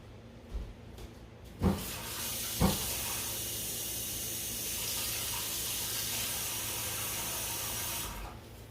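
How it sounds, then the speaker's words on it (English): A kitchen sink faucet turns on with a couple of clunks, then hot water runs steadily with a hissing rush before shutting off near the end. "So we're going to do half a cup of hot water from the sink."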